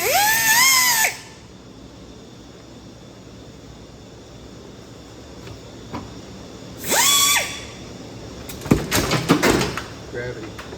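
A power tool whines as it cuts a small marking nick into a Ford F-250 driveshaft during a u-joint and center support bearing job. Two short, loud motor bursts rise and fall in pitch, then a few close metallic clanks and taps follow.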